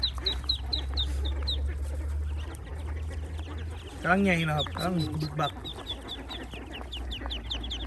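Ducklings on a duck farm in Sarakham, Thailand, keep up rapid, high peeping throughout, with someone speaking briefly over them partway through.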